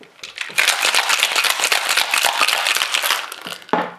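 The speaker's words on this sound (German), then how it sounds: "Und dann wird jetzt einfach alles geshaked und dann in einen Tumbler mit Crushed Ice" A Mai Tai cocktail shaken hard in a shaker, a loud, close, fast clattering rattle of ice that runs continuously for about three seconds, stops briefly, then gives one final burst.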